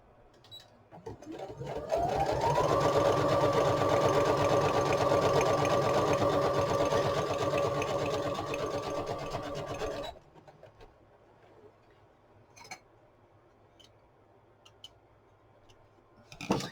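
A sewing machine stitches through junk journal divider pages, whirring loud and steady for about eight seconds before stopping and leaving a quiet room with faint handling sounds.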